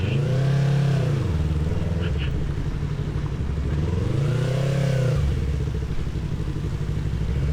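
A Yamaha MT-25 motorcycle engine runs steadily up close while riding, its pitch rising and falling through a couple of revving swells.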